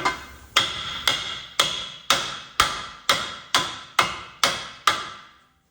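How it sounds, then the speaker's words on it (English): Eleven evenly spaced, ringing metallic hammer blows seat a wheel bearing on a 2015-2019 Ford Transit rear axle, each strike loud and close with a brief decaying ring before the next. "I'm going to take my hammer"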